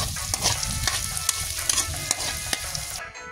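Garlic, onion and ginger sauté in a pan, making a continuous sizzle under repeated sharp scrapes and clacks of a spatula stirring, and it cuts off abruptly at the end.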